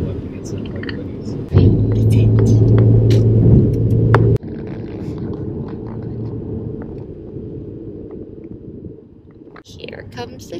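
Road traffic rumbles past in a low, steady roar that swells and then drops off, with a couple of people talking quietly over it.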